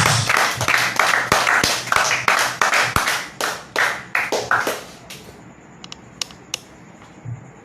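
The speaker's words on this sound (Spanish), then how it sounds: "Denle una ofrenda de aplausos." A church congregation claps together in loud, rhythmic bursts that taper off into a few scattered claps and then near silence.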